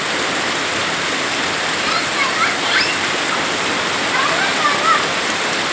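Heavy rain pours steadily in a broad, even wash, with faint splashes and high voices of children playing in it rising briefly around the middle and end.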